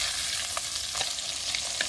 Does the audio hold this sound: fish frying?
yes